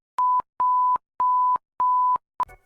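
Mexico's emergency alert system alarm: four sustained, evenly spaced electronic tones followed by a short fifth blip, loud and clean with no other sound.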